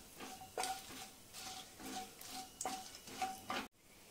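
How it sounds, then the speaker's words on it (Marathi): Whole spices for mutton kheema biryani, cinnamon, cloves, black pepper and cardamom, sautéing in a pan, heard as soft sizzling broken by repeated spoon-stirring scrapes and light clinks against the pan. "4 लवंगा, 5 ते 6 काळी मिरी, 2 वेलच्या, 1 मोठी वेलची, हे आपल्याला 1 मिनिट छान परतून घ्यायचंय।"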